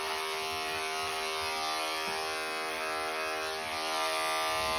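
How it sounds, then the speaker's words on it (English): Professional electric clippers trim an Airedale Terrier's coat, giving off a steady, loud, unbroken buzz with a strained, bogging-down tone and no voices over it. "mine are professional clippers and they are bogging down to the max right now"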